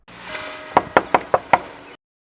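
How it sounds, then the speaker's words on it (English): Five sharp knocks strike a door in a steady, even rhythm, close and crisp over a faint background hum. "I visited him one day at his new home and knocked on his door."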